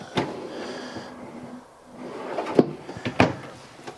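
Drawers in a 2018 Jayco Jay Flight SLX 212 QBW travel trailer slide open and shut, giving a few sharp close clunks and rattles, the loudest two near the end, over a quiet room hum.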